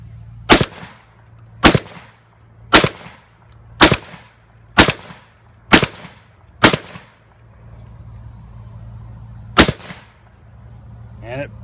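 A Mossberg 930 JM Pro shotgun fires eight loud, sharp outdoor shots: seven in a steady rhythm about a second apart, then a pause before the final blast, with a low hum underneath.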